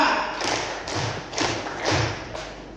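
Teachers at a training workshop clap the square pattern in unison, with four or five evenly spaced, loud collective claps ringing out in a steady rhythm.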